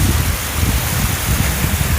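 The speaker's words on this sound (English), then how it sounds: "it's really windy right now" Strong wind sweeps outdoors along the downtown San Antonio river walk, a loud, steady broadband roar with gusty low buffeting against the microphone, continuous throughout and with no voices.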